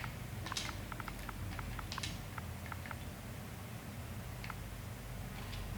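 Quiet clicks from a computer keyboard come in quick, irregular bursts of keystrokes over faint background hiss, then thin out into a few scattered taps.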